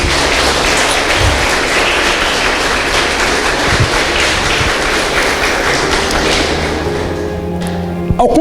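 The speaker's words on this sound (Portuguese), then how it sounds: "Aplaude a Deus, irmão, por isso." Congregation applauding during a church service, a dense sustained wash of clapping with scattered thumps, loud and continuous before tapering off near the end.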